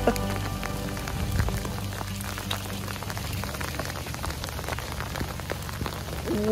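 Hail pelts steadily and densely in winter at Glacier National Park near Whitefish, Montana, a continuous close patter with no voices.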